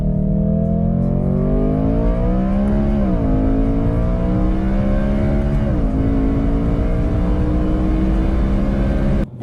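A loud V8 engine of a tuned BMW M3 E92 with DCT revs hard past 8,000 RPM and climbs in pitch through its gears, with two brief dips between pulls, dominating the whole stretch.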